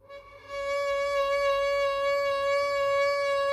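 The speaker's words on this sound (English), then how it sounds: "So you can do a very slow one" A sustained violin note held steady, with a slow, gentle arm vibrato gently swelling the pitch, played alone and close.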